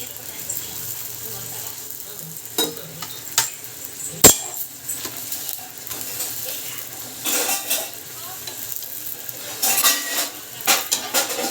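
Dishes and steel utensils clink and clatter intermittently as they are set down and stacked, with occasional sharp knocks against a hushed background.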